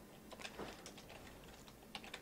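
Soft, quick clicking of keys on a computer keyboard as commands are entered in a Linux terminal, an uneven patter of keystrokes heard alone at low volume.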